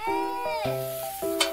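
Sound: pork belly sizzling in a pan

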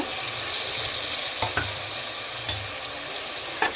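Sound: tomatoes frying in a pan for egg biryani

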